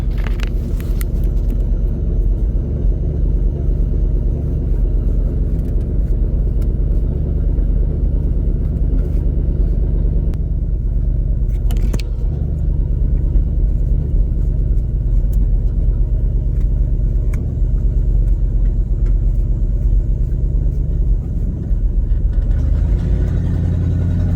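A 1978 Chevy C30 wrecker truck with sketchy brakes and a sticking clutch drives around the block, its engine giving a constant heavy low rumble heard from inside, with occasional clunks and rattles over the drone.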